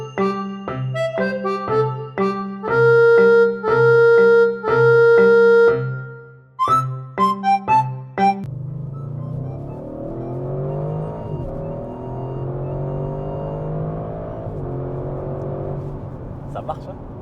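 An Audi RS6, the last combustion-engined version, accelerates hard with its exhaust crackling, the engine roar rising loud and close after several seconds of music.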